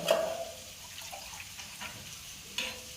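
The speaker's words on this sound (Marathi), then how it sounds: "वांग्याच्या भाजीत पाणी घालायचं आहे" Water is poured into a pan of brinjal (eggplant) curry on the stove in a home kitchen, giving a soft, steady splash and faint sizzle that stays quiet throughout, with no talking.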